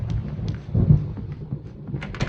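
A video game thunderstorm in Alan Wake Remaster, with low rumbling thunder and a dense wash of rain filling the scene continuously, swelling slightly midway, with no speech over it.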